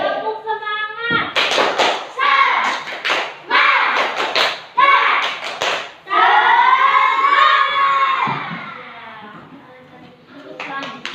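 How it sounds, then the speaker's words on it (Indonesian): In a classroom, a group of children perform a rhythmic spirit clap: bursts of loud, patterned claps and thumps alternate with their shouted chanting voices, then trail off into children's chatter. "Tepuk semangat."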